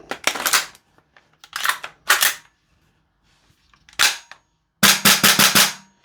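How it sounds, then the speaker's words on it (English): A Toxicant XM5 airsoft rifle fires in several rapid bursts of sharp mechanical clacks, loud and close, with short pauses between strings and a longer final burst, no talking. "It's very fast firing, but there's no recoil."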